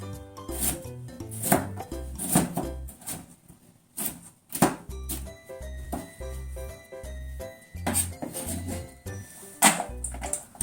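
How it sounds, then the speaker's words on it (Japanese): A knife chopping carrot finely on a board, quick uneven runs of crisp close taps with brief pauses between bursts, no talking. "人参も細かく切りますね。"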